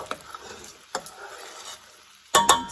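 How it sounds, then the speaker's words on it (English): A spoon stirs a sizzling apple mixture in a pan, giving a few soft scraping strokes over a faint hiss before a sharper, louder clatter near the end. "My spoon, a little bit of a stir."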